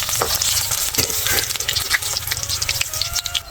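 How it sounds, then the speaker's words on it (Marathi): Alu vadi, colocasia leaf rolls, frying in hot oil with a steady, close, continuous sizzle and crackle, punctuated by occasional brief pops and stirring sounds, with no one talking. "आता हे बघा असे तेलात सोडायचे. तळून काढायचे चांगले भाजायचे."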